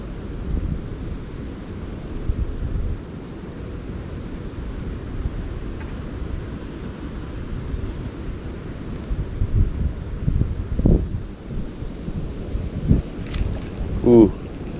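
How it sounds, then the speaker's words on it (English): Strong wind roars steadily across the microphone outdoors by a creek while fishing, a constant low rumble with gusts swelling now and then, and no clear talk over it. "It's very windy out, as you can hear probably."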